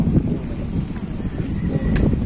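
Wind gusting across open countryside near farm fields, a steady broad rush with low rumbling buffets on the microphone, loud and continuous throughout with no talk.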